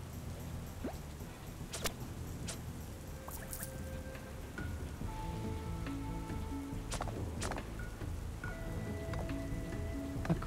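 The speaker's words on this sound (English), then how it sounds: "do you think this rain will stop?" Steady rain patters on a surface throughout a quiet stretch of the Serin Fate video game, with occasional chimes and soft tonal game sounds mixed in and no one talking.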